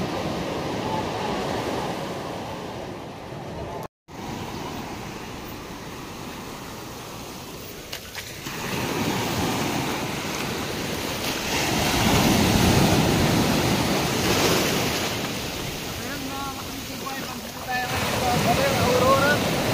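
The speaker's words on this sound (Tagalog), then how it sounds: "Ang lakas ng alon talaga." Powerful surf rolling and crashing onto a beach in Baler, Aurora, with wind buffeting the microphone and a voice briefly heard over the roar.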